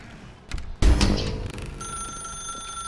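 An old-style telephone rings in The Stanley Parable, a bright sustained electronic ring following a thud, heard alone and fairly loud.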